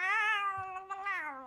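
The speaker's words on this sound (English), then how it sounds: "Aren't you a pretty little kitty catty?" A cat in an animated children's show lets out one long, drawn-out meow that rises and falls, close and clear with nothing else over it.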